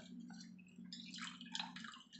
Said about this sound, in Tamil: 2 லெமனை பிழிஞ்சிக்கணும்.